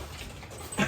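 Dog whimpering and panting indoors, faint and brief, soft breathy sounds ending in a short higher whine.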